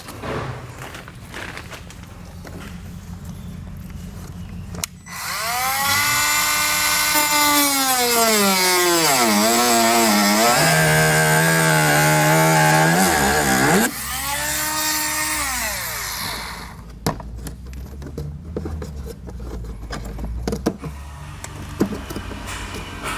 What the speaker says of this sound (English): We're just gonna take a little bit off here, right about this section, and we'll get this cut out.